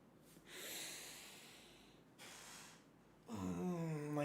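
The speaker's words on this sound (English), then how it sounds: "I gotta sniff the pit for good luck." A person sniffing their armpit, heard as a few quiet, close breathy sniffs separated by short pauses, followed by a soft voiced sound at the end.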